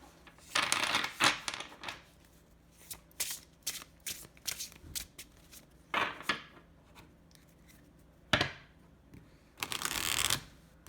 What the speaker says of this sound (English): Now we're going to see how this shuffles beautifully.